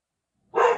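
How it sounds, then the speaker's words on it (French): A single dog bark bursts out from outside after a stretch of silence, sharp and moderately close, with no voices around it. "Il y a un chien qui aboie dehors."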